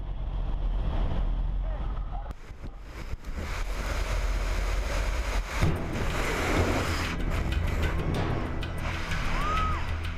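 Loud wind roars and buffets against the microphone during a skydive, with rushing gusts that surge and shift throughout, nearly drowning a faint voice.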